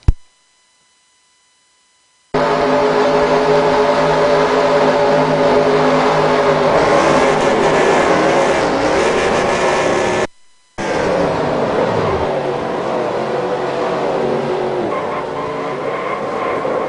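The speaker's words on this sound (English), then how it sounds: "we're going to go on board here, Jeffrey McClintock, and see what just transpired here at Daytona" Onboard race car at the Daytona superspeedway in an iRacing-style 125 dash, a loud sustained engine drone at steady high speed with shifting harmonic tones, briefly cut out mid-clip before resuming with a lower rumble.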